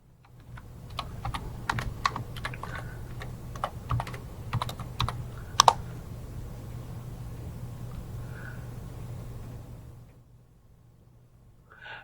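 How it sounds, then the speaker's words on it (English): Rapid computer keyboard typing of a case name into a legal research search box, a quick run of crisp, close key clicks for several seconds with a hum underneath, then stopping into quiet. "you can type in the name of a particular case"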